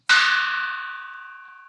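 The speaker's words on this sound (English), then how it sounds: "There are chimes" A single bright chime struck once, ringing out with a sharp metallic attack and a long, slowly fading tone, heard alone and clearly.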